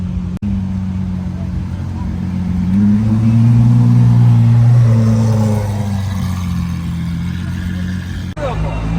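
A Lamborghini SVJ drives past with a deep engine drone that swells into a louder revving peak and then eases off, rolling close by at a car meet while people talk nearby.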